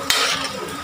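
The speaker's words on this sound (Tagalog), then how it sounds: "halo-haloin lang natin" Pork adobo with oyster sauce being stirred in a pan: a brief clatter of a utensil against the pan, followed by a steady soft scraping and stirring noise, close and fairly loud.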